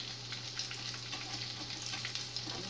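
Egg foo young, a Chinese egg omelet, fries in a pan with a quiet, even hiss of sizzling oil over a low steady hum.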